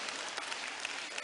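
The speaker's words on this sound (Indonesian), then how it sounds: "pas ini pas tepuk tangannya" Applause from a church congregation during a family sermon, a steady dense patter of many hands, fairly faint and even throughout the short stretch with no talk over it.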